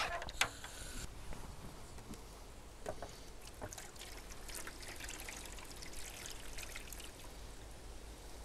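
Water runs and trickles steadily over a bleached photographic print being rinsed during sepia toning, a faint, continuous wash with no talking.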